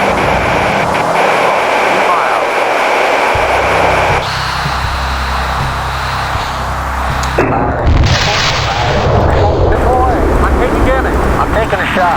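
SAM missile launch in the Fighters Anthology flight sim, flying an A-10A Thunderbolt II: loud rumbling booms and a sustained roaring rush swell and shift across the clip over steady engine noise, with a voice talking throughout.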